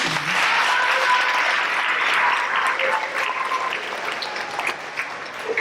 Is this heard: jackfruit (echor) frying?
no